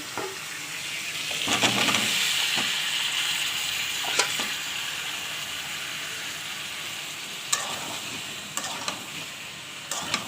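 Potatoes dropped into a pan of already fried tomato and onion set off a steady, close sizzle, with scattered clicks and scrapes of stirring on top.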